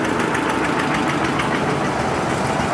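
A nearly new 55-60 hp tractor idles nearby at a tractor fair in Talwandi Sabo, Punjab, a loud, steady, rough chugging drone with no pauses or voices.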